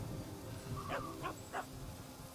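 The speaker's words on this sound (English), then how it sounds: "Kind of an angry dog." A small in-game pet dog in Magic: The Gathering gives three short, sharp yips or growly barks in quick succession, moderately close over a low steady background hum.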